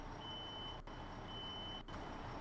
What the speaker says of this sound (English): now we can hear the fire alarm